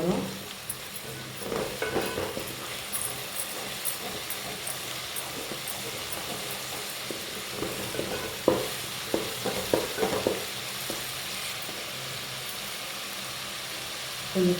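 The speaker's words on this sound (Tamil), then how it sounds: "இதை நல்லா கலந்து விட்டுக்குங்க. நல்லா வதங்கட்டும்." A fish curry masala sautéing in oil, a steady close sizzle with repeated stirring scrapes and occasional utensil knocks throughout, with no one speaking.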